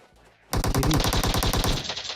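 Rapid bursts of machine-gun fire in PUBG Mobile, loud and close, rattling continuously for over a second after a brief quiet start.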